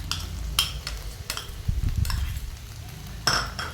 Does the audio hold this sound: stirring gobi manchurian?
yes